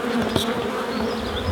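Honeybees buzz steadily and close during a spring hive inspection, a dense continuous drone with no speech over it.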